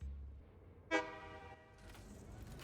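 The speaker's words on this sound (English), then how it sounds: "So it said honk. And that is a warning, basically going like, get out of the way." A train horn in the game Satisfactory gives one sharp, tonal honk that swells and quickly fades, sounding faint and distant against quiet mechanical background noise.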